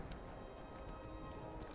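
Horse hooves clip-clop at a steady trot in the video game Skyrim, a continuous quiet rhythmic patter of hoofbeats layered over game ambience with no talking.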